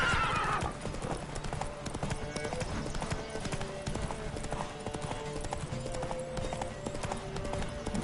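Horse hooves gallop in a steady, driving clip-clop through a Witcher 3 video game horse race, with a brief whinny near the start and game music and effects layered underneath.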